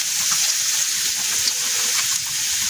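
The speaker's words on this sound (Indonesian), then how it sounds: "ini kita tumis ya sampai cabai bawangnya ini matang dan harum" Sliced red curly chilies and coarsely chopped garlic sautéing in a pan, giving a steady, even hiss of sizzling oil that runs unbroken throughout.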